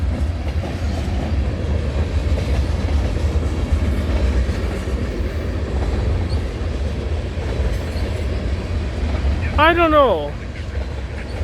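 A long freight train rumbles steadily past a trackside detector, its continuous low roar and wheel clatter filling the scene, with a brief squealing screech near the end and a voice speaking briefly over the noise.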